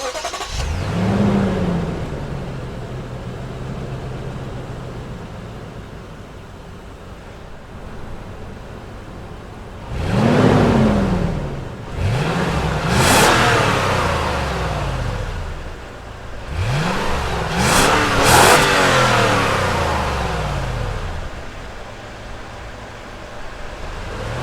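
A 2017 Lexus GX 460 with a 4.6-liter V8 revs several times, each blip rising and falling in pitch over a steady idle, loud and close with no talking.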